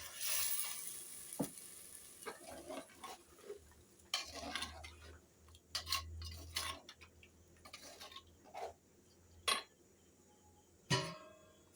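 Egg curry sizzles and fries in a pan as water goes in, with scattered clinks of a utensil against the pan and stirring sounds over a steady hiss.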